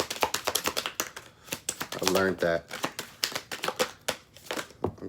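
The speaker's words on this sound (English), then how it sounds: "Oracle cards are a lot harder to shuffle." Oracle cards are shuffled in quick irregular riffled taps and slaps while a person talks over them, with the rustling continuing throughout.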